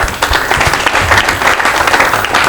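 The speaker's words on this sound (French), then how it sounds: "Le public, si on peut applaudir nous tous," An audience at a Lubumbashi comedy show applauds its guests, with steady, dense clapping from a crowd that carries loudly through the whole moment.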